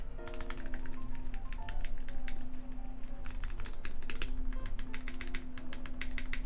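Mechanical keyboard keys pressed rapidly one after another during a switch test on a custom build, a dense run of clicky, clacky taps close up with no talk.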